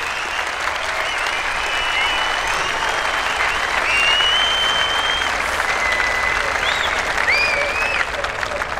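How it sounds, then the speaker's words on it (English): A crowd at a drag racing event at Santa Pod Raceway claps and cheers steadily and loudly for the full stretch before a rocket bike run, with whistles rising through the applause and no clear talk. "The biggest cheering for Eric"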